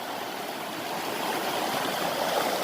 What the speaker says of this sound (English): After the rains, the river's running pretty high.